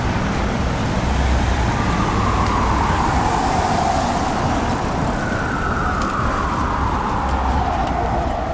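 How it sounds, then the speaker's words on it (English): Emergency vehicle sirens wail through traffic on Yonge Street in Canada, the tones sweeping up and down and repeating loudly over steady roadway noise, with no talk. "These sirens are very annoying, extremely annoying."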